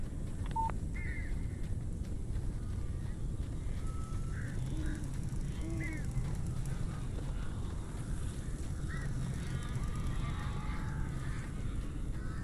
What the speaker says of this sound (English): Barry had talked about birds over the phone.